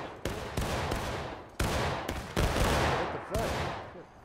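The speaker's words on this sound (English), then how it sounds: "Oh, they're volley firing." Musket volleys in the Civil War video game War of Rights, a series of loud, sharp cracks landing in uneven clusters and each fading into a rolling echo, with voices in the background.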